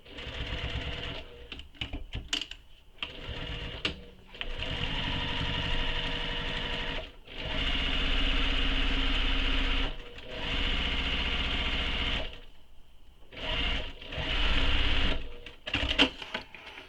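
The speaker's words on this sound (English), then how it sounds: "I'm just going to go back and backstitch where it wouldn't go backwards because it's stuck" A sewing machine stitches a tote bag in repeated bursts of rapid whirring and clattering, some short and some running for a couple of seconds, separated by brief pauses and small clicks, close and without speech.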